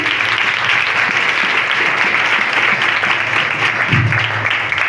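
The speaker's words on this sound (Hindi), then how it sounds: "जोरदार तालियां बजाएंगे।" A church congregation at a Christmas night service applauds loudly, producing a thick, continuous roar of clapping with a low voice briefly rising underneath near the end.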